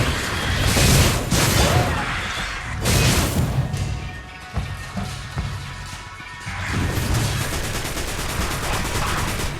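Loud bursts of gunfire and crashing impacts come in waves during a battle in the video game Destiny Rising, with brief lulls between heavy volleys and occasional shouting.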